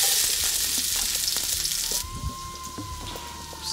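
Garlic sizzling in hot olive oil in a pan, a dense crackling hiss that is loud at first, then drops and settles into a softer, steady fizz with occasional pops.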